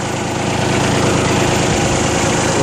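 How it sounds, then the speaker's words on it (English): The diesel engine of a 2010 Bobcat S70 skid steer loader idles steadily, a close, loud, even rumble with a fine rapid pulsing and no change in pace. "The engine runs out excellent."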